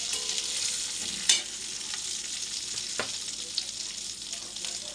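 Cardamom, cinnamon bark, bay leaf and a dried chili hit hot oil with a bright, steady hiss of sizzling, interrupted by a sharp clack and a few stirring scrapes, up close.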